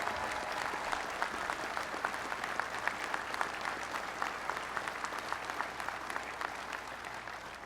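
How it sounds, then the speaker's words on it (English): Sustained applause from the audience at a national convention for a past National Commander and his wife, with many hands clapping in a steady, even wash throughout and no voices on top. "a big round of applause for past National Commander"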